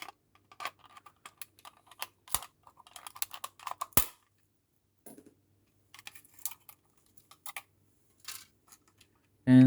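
Plastic parts of a 1/24 Abarth 500 Bburago model kit are cut free, giving scattered small clicks and snips, close and fairly faint, over a quiet background with no talking.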